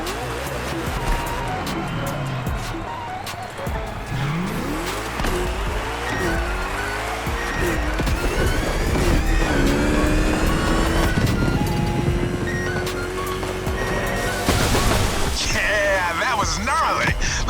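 A car in The Crew Motorfest video game revs hard during a burnout, and tires squeal and whine in rising sweeps over loud, continuous engine noise, with a voice talking intermittently.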